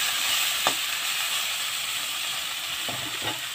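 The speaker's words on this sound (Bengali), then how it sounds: "তো দেখো বেশ বেগুনটা আমার ভাজা ভাজা হয়ে গেছে" Eggplant fries in hot oil in a pan, giving a continuous sizzling hiss with a few faint clinks or stirring knocks, and no voices.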